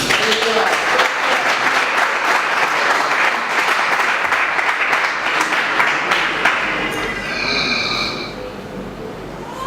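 A church congregation applauds the Lord with loud, sustained clapping that fills the room for several seconds and then thins out toward the end, with voices mixed into the applause.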